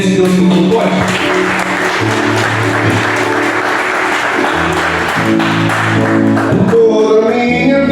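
A church congregation applauds during a worship service, with sustained clapping alongside music and some voices.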